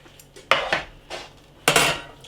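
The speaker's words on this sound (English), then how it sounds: "Get all the suety pie lid off the side as well." A utensil scraping the suet pie lid off the side of a metal tin from a canned steak and kidney pie, several close, loud scrapes and clinks.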